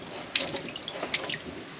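Water runs from a tap aboard a small sailboat, a steady close splashing stream into a sink with a few brighter spatters. It plays alone, with no talk.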